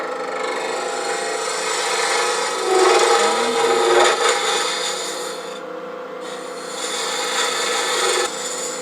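A turning tool rides the bevel while shaping a boxwood box on a wood lathe, giving a steady, loud, continuous scraping hiss over the motor's hum, swelling slightly as the cut deepens.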